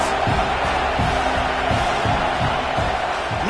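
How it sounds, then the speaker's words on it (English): Dense stadium roar from a football crowd rallying behind the defense on third down, loud and continuous throughout with cheers and whoops blended together. "Big 3rd down as the crowd gets behind this defense."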